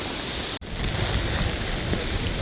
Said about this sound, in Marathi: जोरदार पाऊस आहे